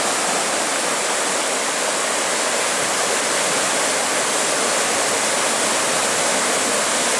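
The flooded Razdolnaya river near Pokrovka rushing in spate, a loud, constant broadband roar of churning water, unbroken and close, with no voices.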